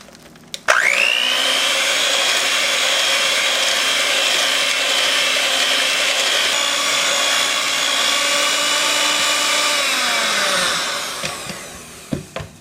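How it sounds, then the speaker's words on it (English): An electric mixer beating egg yolks with granulated sugar starts abruptly and runs at a loud, steady whine for about ten seconds, then winds down and stops, followed by a couple of light knocks. "we're going to beat the yolk with the sugar until it gets yellow and pale"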